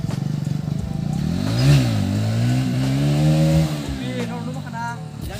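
A motorcycle engine revs up and down close by, its pitch swooping in drawn-out rises and falls, as riders gather for wheelies on a group ride; voices talk over the engine.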